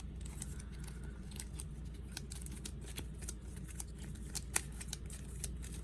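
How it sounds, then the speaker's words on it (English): Board game cards from Marvel Villainous being shuffled at a table, a steady papery riffling and scraping with occasional sharp clicks, fairly close and continuous throughout. "now we got to shuffle this one back in"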